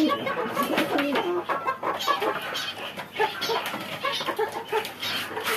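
A small flock of chickens clucks busily while feeding on a farm, with many short, overlapping clucks in an uneven rhythm, close and fairly loud, with no voices.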